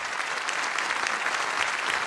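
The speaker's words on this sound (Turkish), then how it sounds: "şu güçlü orkestraya şöyle bir alkış efendim" A studio audience at a Turkish television music show applauds the orchestra, a dense, even burst of many hands clapping close by with no other sound.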